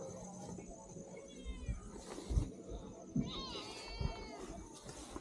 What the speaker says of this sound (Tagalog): bagong ampo namin dito sa bukid na pusa